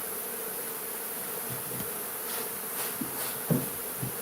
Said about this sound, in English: Mr. Willie, there'd be so many bees, it'd be impossible to suck them all up